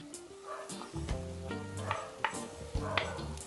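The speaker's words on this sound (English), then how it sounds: "now we are going to add the vegetables them to the pot" Vegetables such as Irish potato and carrot drop into a cooking pot with close clattering and soft thuds, amid a low sizzling bubble and scraping stirs, with no talk.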